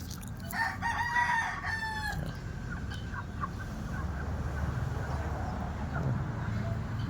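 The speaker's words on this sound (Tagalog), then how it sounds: "So itong mga sisiw natin is anak ni Tikling" Shamo chickens in a backyard farm, a rooster crowing near the start over steady outdoor background noise, with someone talking.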